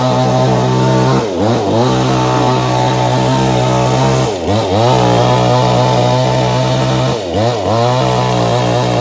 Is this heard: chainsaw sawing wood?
yes